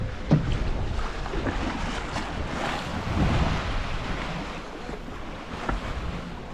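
Sailboat underway on the open ocean, sailing from Newport toward Cabo under a large reacher sail, with steady broadband wash of waves and hull noise and gusting wind buffeting the microphone throughout, no talk.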